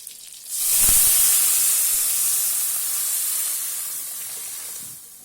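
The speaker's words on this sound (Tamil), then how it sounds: "இப்போ நம்ம அந்த சாம்பாரை எடுத்து ஊற்றிடலாம்" Sambar hits a hot pan of lightly fried onion and bursts into a loud, close hissing sizzle that then fades slowly.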